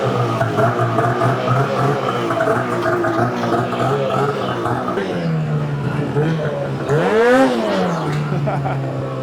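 An 858 Catalyst snowmobile fitted with an HPS exhaust can runs loud and close, droning steadily, then one sharp rev sweeps up and falls back to idle while people talk over it.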